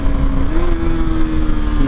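A KTM Duke 350 motorcycle engine drones loud and close, holding a steady tone as it downshifts from fourth gear, with only a slight shift in pitch.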